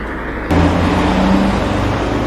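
Road traffic at night, a car engine rumble rising abruptly and holding steady as vehicles pass close by, with no voices.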